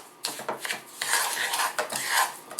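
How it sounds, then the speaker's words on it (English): The back of a spoon presses sugar scrub into a container, giving gritty scraping and rubbing strokes close up. The strokes come in short, uneven bursts of granular rasp. "press down with the back of your spoon on there to make sure it's really getting in there"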